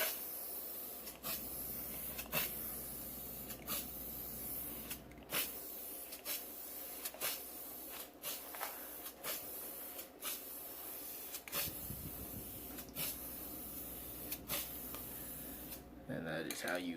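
A black Rust-Oleum spray can with a special nozzle gives a long series of short, sharp hissing bursts at a fairly steady pace over a low background rumble.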